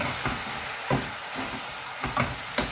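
Chicken teriyaki mixture is stirred in a hot pan, a steady close sizzle broken by periodic scraping strokes of the utensil, with no voices.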